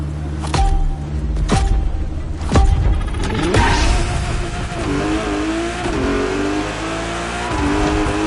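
Car from The Crew Motorfest racing game driving and revving hard, loud and close, with several sharp engine blips early on before a sustained climbing rev and gear shifts, alone without talk.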